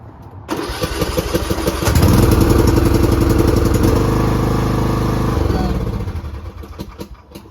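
A tractor with a dead battery, boosted by an ATGFOX 8250A jump pack, cranks briefly and then catches, roaring into a loud, steady idle that runs for several seconds before easing down.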